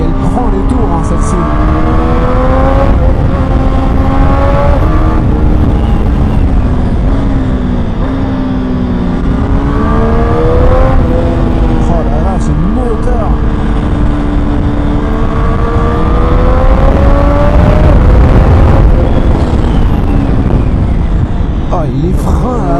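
A 2021 Triumph Street Triple 765 RS motorcycle revs hard through repeated rising gear pulls, its loud engine whine climbing in pitch, shifting and climbing again, with a rider talking excitedly over it.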